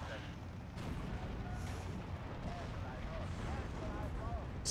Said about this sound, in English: Luckily, you can always throw little grenade-y things.